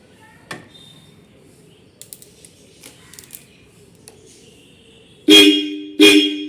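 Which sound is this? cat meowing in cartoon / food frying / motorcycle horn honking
motorcycle horn honking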